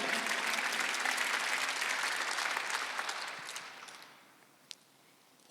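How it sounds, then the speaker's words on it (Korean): A church congregation at a Sunday worship service claps together in dense, even applause that carries on for about four seconds, then fades to near silence apart from a couple of faint knocks. "박수 영광을 드리세요"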